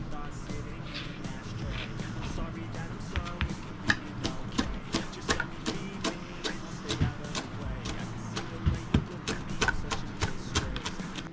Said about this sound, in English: the first thing we're going to do is go ahead and chop up our parsley